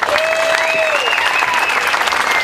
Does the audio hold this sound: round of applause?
yes